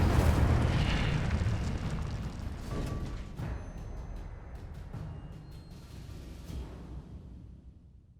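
Fiery burst from the Incendio spell in Hogwarts Legacy, a loud roaring whoosh and crackle at the start that slowly fades over several seconds with a few small pops.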